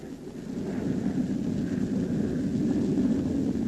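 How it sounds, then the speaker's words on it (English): Steady, loud roar of a Gloster Meteor twin-engine jet with two Rolls-Royce engines, a broad rumble holding evenly throughout without voices, as if the aircraft passes close. "The Meteor, powered by two Rolls-Royce engines, was first used to combat Nazi robot bombs."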